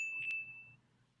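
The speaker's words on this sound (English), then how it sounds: "And the bell sounds like this." A digital bell gives a single soft electronic ding that rings as a steady tone for under a second and then fades, faint and alone.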